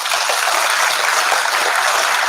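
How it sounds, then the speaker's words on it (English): A dense, even wash of audience applause rolls through a performing arts center after a candidate forum, steady and full for the whole stretch with no talk over it. "A big round of applause for them again."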